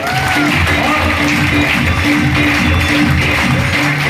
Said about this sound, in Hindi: आदरणीय डॉक्टर सुनील सर के लिए एक बार जबरदस्त तालियां।